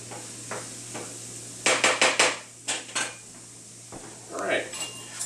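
A whisk works a Dijon mustard mixture in a bowl, giving quick metallic clinks in short bursts with quiet pauses between them, close and fairly soft.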